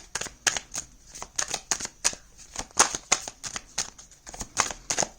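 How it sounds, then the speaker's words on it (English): Tarot cards being shuffled by hand close up, a quick run of papery riffling bursts in an irregular rhythm, soft and intimate with no voices. "Let me shuffle once more."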